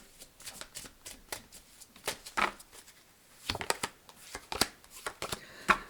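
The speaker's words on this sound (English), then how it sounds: "I did want to pull a couple of these. These are the life purpose cards." A deck of life purpose tarot cards is shuffled and drawn close by, with quick riffling and flicking bursts interrupted by brief pauses, all fairly soft.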